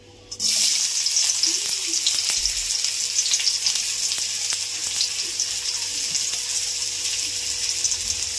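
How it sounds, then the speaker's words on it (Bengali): Chopped onions hit hot oil in a pan and sizzle loudly, a sudden onset followed by a steady, bright crackling fry that continues close and unbroken. "তেলে দেবো পেঁয়াজ কুচি"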